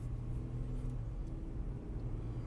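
Steady low interior rumble of a car driving along, continuous and fairly loud, with no talk over it.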